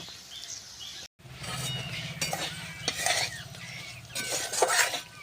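Turmeric and chili powder stirred into okra and potato curry in a pan, a spoon scraping and clinking against the metal in steady strokes over a soft sizzle, close and alone after a brief silent gap.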